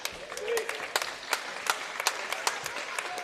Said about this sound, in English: Let's give one more round of applause for our 2023 wrestling seniors.